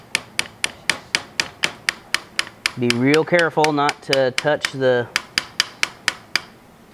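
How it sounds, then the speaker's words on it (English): Light, evenly spaced taps of a small tack hammer on a 2006 Honda Big Ruckus carburetor ring out about three per second, pausing briefly while a person speaks over them. "I'm just going to use this very small tack hammer and just lightly tap on this."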